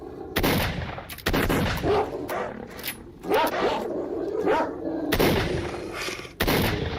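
Sharp gunshots from the game S.T.A.L.K.E.R. crack out loud and close in a few separate bursts across seven seconds, with barking dogs and other game noises filling the gaps between shots.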